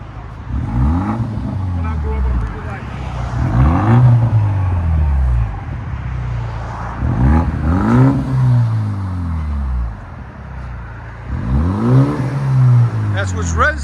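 A 2024 BMW X1 M35i with a 2.0L turbo engine and its muffler and resonator deleted revs in four loud, close bursts, each climbing then falling, with people talking between and over them.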